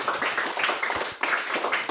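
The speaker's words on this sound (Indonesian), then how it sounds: "kita berikan sekali lagi tepuk tangan untuk kelompok satu" A classroom of students claps for group one after their discussion presentation, a fairly close burst of mixed hand claps with a short dip in the middle before it picks up again.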